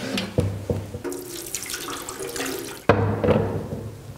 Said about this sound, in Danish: Og når vi så har hældt vand op